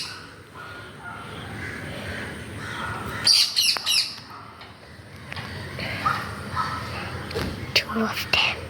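Parrots calling outdoors, a burst of squawks and chirps in the middle followed by scattered sharper calls, mixed with background noise and faint voices.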